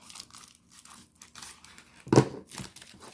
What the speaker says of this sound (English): Let's see if I cut the corner off.